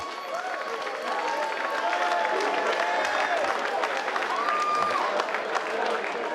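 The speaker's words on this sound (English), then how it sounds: "round of applause for Richard Mearns" Audience applause and clapping at a combat-sports fight signing event for fighter Richard Mearns, a steady crowd wash throughout with some murmuring and background voices mixed in.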